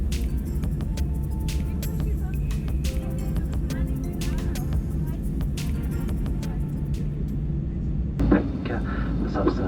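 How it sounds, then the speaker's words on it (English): An easyJet airliner taxiing out to runway 26 left at Gatwick, heard from inside the cabin as a steady low engine rumble with scattered clicks and knocks, and a brief louder bump near the end. "Pushback was slightly early and we taxied out to runway 26 left at Gatwick."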